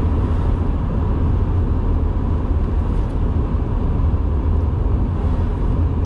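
Interior drive of a 1977 BMW 633 CSI, a steady loud engine and road rumble cruising along without pause, no voices.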